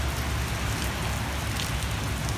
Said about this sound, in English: we're walking in the rain with no umbrella